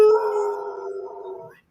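A person mimics dogs howling with a single sustained, wavering vocal howl, loud and close, fading out after about a second and a half.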